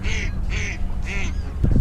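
Ducks quacking at Port-la-Nouvelle, three evenly spaced nasal quacks close by over low background noise, followed by a short thump at the end.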